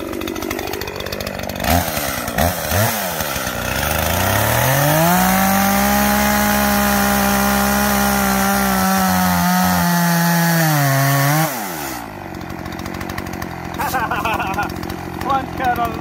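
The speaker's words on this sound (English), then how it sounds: "figured this one leans a little bit, so I'll do a plunge cut" A Jonsered or Echo chainsaw revs and bogs as it makes a plunge cut into a small leaning tree outdoors, loud and close, its engine pitch dipping under load then rising again, with voices talking over it.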